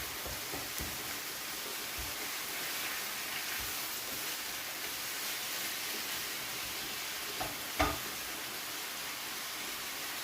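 Minced meat frying in a pan while being broken up for a spaghetti bolognese sauce; soft steady sizzle with scattered scraping taps of a utensil and one sharper knock near the end, faint, no voices.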